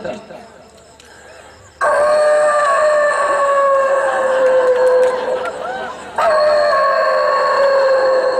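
A voice imitates a dog's howl, a long wavering drawn-out cry, pausing briefly before a second howl rises and carries on loudly.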